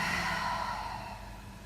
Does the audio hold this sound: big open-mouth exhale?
yes